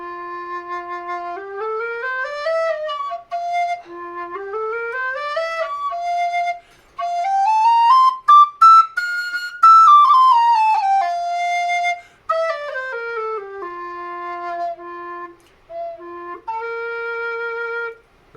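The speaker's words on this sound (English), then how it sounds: "Here's a Burke, which shares some design similarities with the goldfinch" A Burke aluminum whistle plays a clear solo melody of sustained notes and stepwise runs, rising to a bright high passage midway, loud and close with only brief breaths between phrases.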